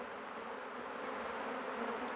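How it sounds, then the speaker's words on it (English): Honeybees buzzing and fanning at a hive entrance while a colony is prepared for winter, a dense continuous drone of many wings, steady and moderately close, with no voices. "lots of fanning from the bees"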